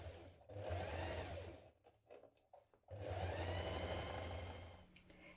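A domestic sewing machine runs in two steady bursts while stitching trouser seams with a 1.2 cm seam allowance, with a brief pause in between and a quiet tail at the end, close and alone.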